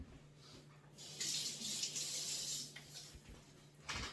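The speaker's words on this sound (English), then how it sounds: "I'm going to wet the hand." Tap water runs into a sink as a hand is wetted while making homemade bread, a soft close hiss that swells for a few seconds and then eases, with no talking.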